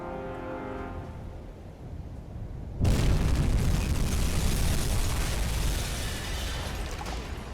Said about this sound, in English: a nice solid hit there on the Empire, right in the middle